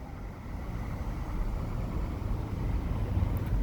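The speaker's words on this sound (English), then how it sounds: "That's Fossil Creek. You can hear it, but you can't see it." Fossil Creek flowing out of sight beside a rural roadside at night, a steady broadband rush of running water that holds even and continuous throughout with no voices.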